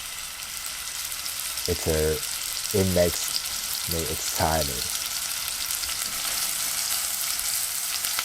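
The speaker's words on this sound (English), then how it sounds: "the sound of grilling" Pork roasting in a pan, a steady sizzle running the whole time while a voice speaks briefly over it.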